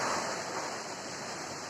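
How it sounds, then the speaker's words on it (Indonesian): Strong gusting wind roars steadily in front of a house during a storm, a loud, continuous broadband rush with no pauses. "Angin guys, angin guys."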